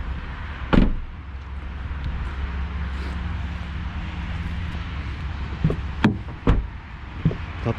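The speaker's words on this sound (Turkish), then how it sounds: "Kapı sesi güzel geliyor." Door of a 2020 Dacia Duster LPG shutting with a solid thud, followed by a few more sharp knocks and clicks from handling the car's fittings, close by in a quiet interior.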